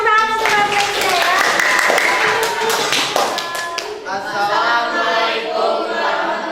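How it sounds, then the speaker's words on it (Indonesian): A class claps for a student group, a dense burst of close hand clapping that fades toward the middle, with people talking over it. "tepuk tangan untuk Rafflesia ya."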